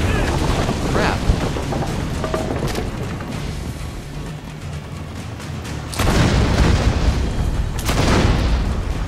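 Explosive barrels blowing up in Assassin's Creed Brotherhood, loud booming blasts around 6 and 8 seconds over a dense, continuous bed of game noise and rumble.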